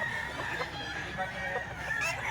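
Small stag roosters offered for sale crow and cluck through a dense, steady wash of background noise, the calls overlapping rather than standing out clearly.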